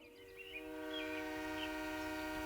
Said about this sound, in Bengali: স্যার, ট্রেনটা এই পথেই আসবে।